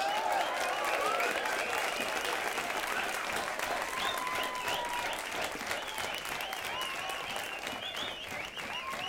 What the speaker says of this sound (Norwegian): Ta nå og gi en skikkelig applaus til ho Caroline Ylving.